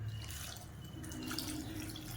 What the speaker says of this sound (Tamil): கொஞ்சமாக தண்ணி ஊற்றிக்கணும்.